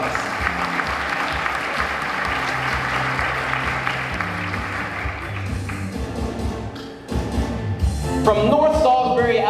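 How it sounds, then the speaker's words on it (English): An audience applauds a teacher of the year at an awards event, with loud sustained clapping that shifts and swells again near the end. "Let's give her a great big round of applause."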